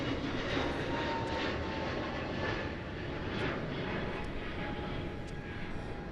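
An EasyJet airliner taxiing at Gatwick Airport, heard as a steady, broad engine rumble and whine, distant and continuous.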